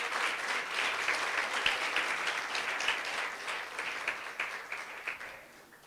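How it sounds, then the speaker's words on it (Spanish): A church congregation gives a strong round of applause for the Lord, dense steady clapping from many hands that fills the room and fades toward the end. "cuánto le pueden dar otro aplauso fuerte al Señor"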